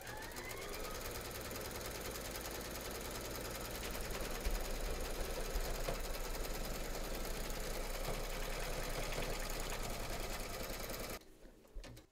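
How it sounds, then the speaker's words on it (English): An embroidery machine stitches a design in the hoop, a steady, fast mechanical hum and needle chatter running continuously and close for about eleven seconds before cutting off, with no talking. "Pop your hoop into your machine and stitch round number 3 to secure them."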